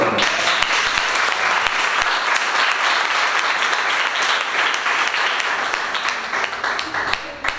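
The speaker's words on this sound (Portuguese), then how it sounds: "Vai dar um aplauso ao Senhor." A congregation at a Brazilian church worship service claps loudly for the Lord, a thick, continuous burst that stays strong throughout and eases slightly near the end, with faint voices mixed into the clapping.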